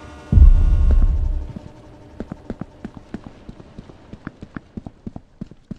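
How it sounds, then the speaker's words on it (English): Footsteps in the Roblox horror game Paracam, Chapter 2: a heavy low thud opens, then a steady run of sharp, evenly spaced steps follows at a quick walking pace, moderately close and alone. "I hear footsteps."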